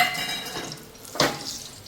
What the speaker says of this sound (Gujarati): પોપકોર્ન બનાવું છું અને બટરમાં બનાવું